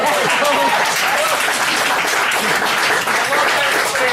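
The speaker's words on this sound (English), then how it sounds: "Let's get a round of applause." A comedy club audience bursts into dense, loud applause that fills the room for several seconds, steady overlapping clapping with a bit of crowd noise.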